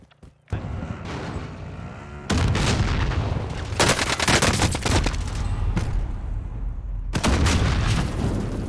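AN-94 rifle gunfire in the Warzone video game, loud rapid bursts of shots in long sustained strings separated by brief pauses, close and dominant.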